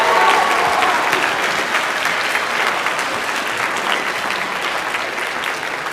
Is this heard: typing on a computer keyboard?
no